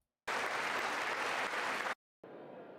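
A crowd claps during a State of the Union address: a loud, dense, sustained burst that cuts off abruptly, then a quieter, muffled stretch of applause after a short gap.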